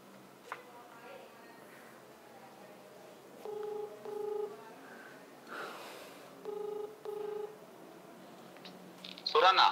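Touch-tone keypad beeps dial out on a telephone, short paired tones in two quick bursts, followed by a brief ring tone at the end, over a quiet room hiss with faint talk.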